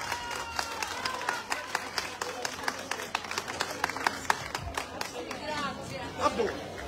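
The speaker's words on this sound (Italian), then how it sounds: "per voi lo facciamo un grande applauso forte" Crowd at a village food festival in Bivongi clapping in scattered, uneven bursts, with chatter and voices mixed in and some sharp individual claps standing out near the end.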